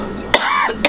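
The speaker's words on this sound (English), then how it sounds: "It's a summer cough." A man coming down with a summer cough gives two or three quick, close, throaty coughs in under a second.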